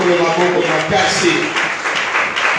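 A church congregation applauds and cheers during a French-language worship service, a dense, loud wash of clapping that runs throughout, with voices mixed in.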